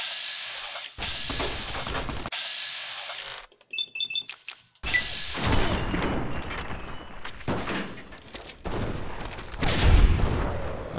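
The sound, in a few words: multiple enemies firing guns at player in Fallout: New Vegas video game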